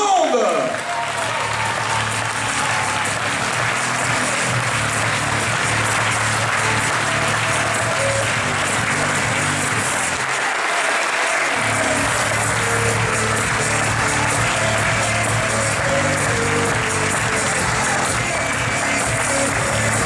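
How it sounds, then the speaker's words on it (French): A large crowd at the 2016 mountain bike marathon world championship applauds the new world champion, with sustained, loud clapping throughout while an announcer talks over it. "Pour un champion du monde, je crois que vous pouvez applaudir encore plus fort."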